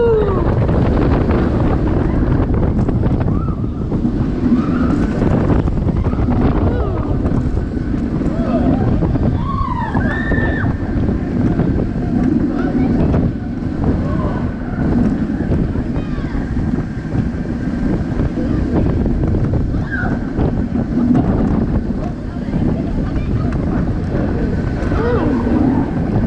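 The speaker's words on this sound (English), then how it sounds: "So a quick ride there on second row on the RMF Dragon Coaster." Loud, steady wind roar rushes past on an RMF Dragon Coaster, a Vekoma suspended family coaster, ridden in the second row. The blast is continuous for the whole stretch, with faint rider shouts and rattling mixed in.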